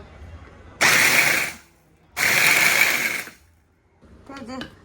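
An electric chopper grinding chili flakes in short pulses, two loud whirring bursts of about a second each, then a lighter third burst with people talking over it.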